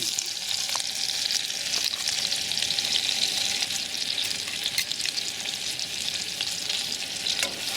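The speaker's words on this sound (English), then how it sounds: "So you cook and stir that until the onions get a little tender." Onion and minced garlic sizzle steadily in a pan while a utensil stirs them in occasional scraping strokes, close and continuous with no talking.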